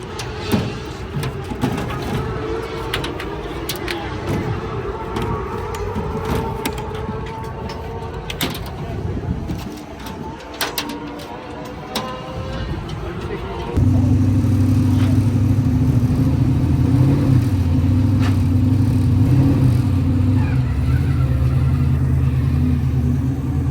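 Short track race cars at Brookfield Speedway roar off the start of a heat race, a loud, steady, dense engine drone swelling and holding after a quieter stretch of rumbling, with faint talk early on.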